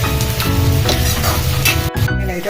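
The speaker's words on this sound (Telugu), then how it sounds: "ఆయిల్లో ఫస్ట్ ఉల్లిపాయలు వేసేసి మంచిగా వేయించుకోవాలి" Onions frying in hot oil give a loud, close, continuous sizzle, with stirring scrapes and a brief sharp clatter near the end.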